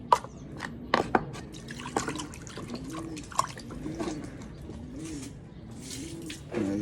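Pigeons being fed and drinking water from a drinker, soft repeated cooing near by with scattered wet pecking, splashing and dripping clicks throughout; no talking.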